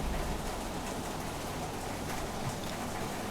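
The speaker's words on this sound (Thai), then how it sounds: "เสียงฝนก็ตกกระหน่ำเลยครับ ตอนนี้ตกแรงมาก" Heavy rain pouring down hard in a steady, dense hiss with drops drumming on surfaces, loud and unbroken throughout with no voices.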